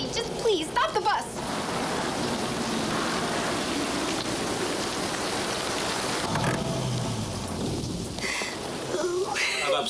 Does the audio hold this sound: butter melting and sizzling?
no